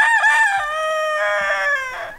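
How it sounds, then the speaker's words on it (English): A backyard rooster near a mulch pile lets out one long, loud, close crow that rises, holds and trails off over about two seconds, with no talk over it. "Look at these happy chickens in this mulch pile"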